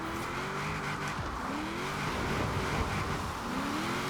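A van converted into a drift car slides sideways down a hill in Forza Horizon 4, its tires squealing in repeated rising and falling wails over a continuous engine roar.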